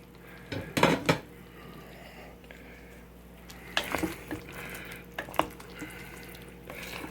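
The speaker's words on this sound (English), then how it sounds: "I'm now stirring it up." A spoon scraping and clinking against a pot while meatballs in mushroom sauce are stirred, coming in short bursts of metallic scrapes and taps with quiet pauses between, close and fairly soft.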